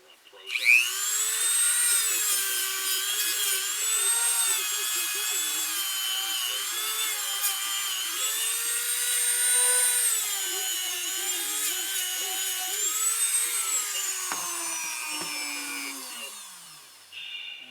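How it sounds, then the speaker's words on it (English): A palm sander whines steadily for a long stretch at close range as it sands wood, its pitch wavering slightly before it winds down at the end. "And then we'll use our palm sander for the big areas."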